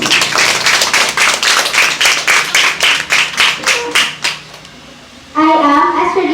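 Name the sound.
audience applause for debate chairperson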